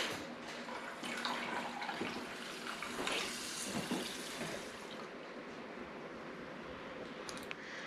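Tap water pours into a cooking pot, about two cups measured for basmati rice, as a continuous splashing rush that shifts slightly in tone as the pot fills, then eases toward the end.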